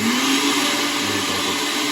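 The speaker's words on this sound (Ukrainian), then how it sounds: "як промити блендер легко, трохи води набрати" A blender whirs steadily with a little water inside to rinse it out, a loud, continuous motor drone with no talking.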